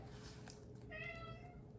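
Indoor house cats give a single drawn-out meow, faint but clear over a low steady hum, with voices nearby.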